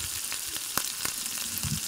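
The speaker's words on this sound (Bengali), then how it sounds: "তেল গরম হতেই তাতে ঢ্যাঁড়সগুলো তুলে দিলাম" Okra frying in hot oil in a wok gives a loud, close, crackling sizzle, broken by sharp pops and the scrape of stirring.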